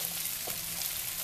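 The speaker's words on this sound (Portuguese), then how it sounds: "nós vamos mexer para ele dar uma fritada aqui junto com essa banha, junto com alho" Okra frying in lard with garlic while being stirred in a pan, a soft, steady hiss of sizzling with a faint scrape, quiet and close, no talk.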